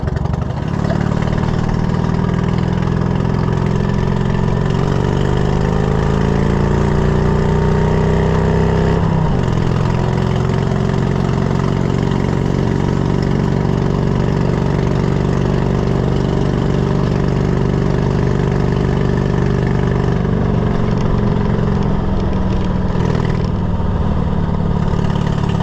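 A Cushman Truckster utility vehicle with a carburetor problem drives in second gear, its small engine droning loud and steady throughout, with a slight dip in pitch midway and no talking.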